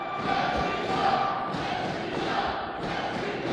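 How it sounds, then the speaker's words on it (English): A large indoor wrestling crowd roars and yells loudly and continuously during a thumbtack match, with a few dull thuds mixed into the din. "Listen to that crowd."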